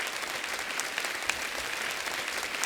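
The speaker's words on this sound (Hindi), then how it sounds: "एक बार जोरदार तालियां हो जाए" Studio audience on a Hindi comedy talk show breaks into loud, continuous applause, a dense wash of clapping heard alone without speech.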